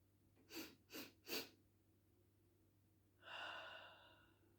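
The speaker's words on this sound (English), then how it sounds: "3 short sharp sniffs on the in breath and then a sigh on the out breath" Three short, sharp nasal sniffs in quick succession from one person's in-breath, a pause, then a longer breathy sigh on the out-breath, close and quiet, part of an energising bunny-breath exercise.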